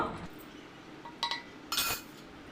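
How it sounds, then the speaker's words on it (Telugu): Steel utensils clinking against a steel bowl while a milk mixture is strained in a home kitchen: a few sharp metallic clinks and a scraping clatter over a quiet background. "ఇప్పుడైతే దీన్ని ఈ గిన్నెలోకి వడపోస్తాను"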